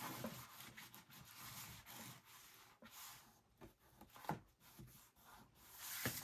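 Paper fold being burnished flat by hand: soft, faint rubbing and scraping strokes in an irregular rhythm, close and quiet, with no talking.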